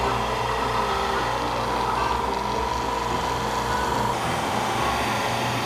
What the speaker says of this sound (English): a really loud, obnoxious air compressor running in the background